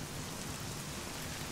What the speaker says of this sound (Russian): Блин, дождь, конечно, нафиг он нужен.